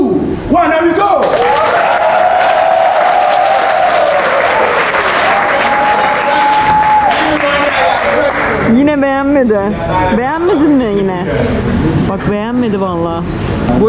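A studio audience at a live TV talent show in Ghana claps loudly and steadily for several seconds as a dense wash of sound. People then talk loudly over the tail of the applause.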